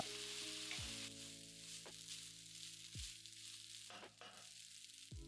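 Cooked rice being stirred into capsicum masala in a hot pan, giving a soft continuous sizzle with a few sharp clinks and scrapes from the spoon against the pan, plus a faint tonal hum underneath.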